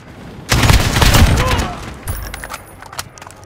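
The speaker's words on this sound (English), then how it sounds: "Enemy cruise missile, take cover!" Cruise missile strikes in Call of Duty: Modern Warfare multiplayer, with a sudden loud explosive burst and rumbling crackle, then scattered gunfire and clatter, and voices heard over the battle.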